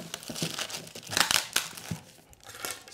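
Plastic wrapping around a Fortis x Bootlosophy Legolas wholecut oxford boot crinkles and crackles in bursts as it is pulled away, loud and close with no talking.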